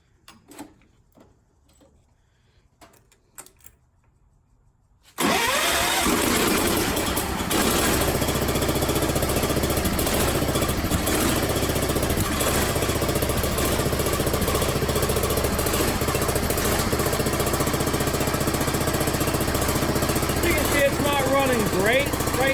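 A John Deere 314 lawn tractor engine starts after a quiet stretch of small clicks and handling, then runs steadily and slightly rough at close range, loud and continuous without a break.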